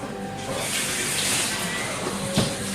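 Tap water runs steadily into a sink during handwashing, a continuous broad splashing rush with a slight surge near the end.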